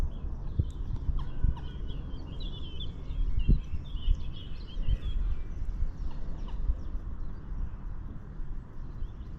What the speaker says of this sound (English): oh, it's noisy bird